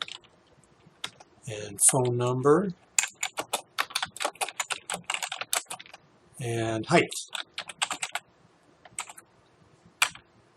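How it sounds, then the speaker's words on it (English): Rapid keyboard typing clicks in bursts, with a person speaking briefly between the runs of keystrokes. "And you can start typing."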